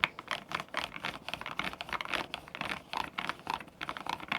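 Typing on a mechanical keyboard with its original stock keycaps, a steady run of close, crisp key clacks with no voices.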